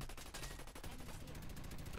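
Mounted gun in the Dirty Bomb shooter game firing a steady rapid burst, loud and dense throughout, blended with other gunfire and game noise.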